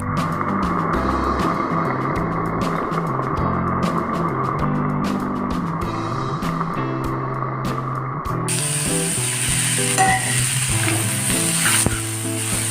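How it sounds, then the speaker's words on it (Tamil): Onions and tomatoes sizzle steadily in a pan while cooking for street-style kothu parotta, a loud continuous frying hiss with occasional clinks and scraping, no voices over it. "தக்காளி நல்லா வதங்கட்டும்."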